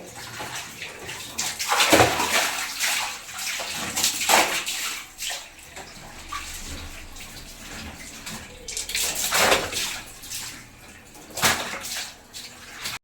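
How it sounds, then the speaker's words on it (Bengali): Water runs from a tap while clothes are washed, a continuous splashing flow that swells and splatters in several louder surges as the garments are moved under the stream, close by and without talk. "জামা কাপড়গুলো ধুয়ে নেবো এই কলে"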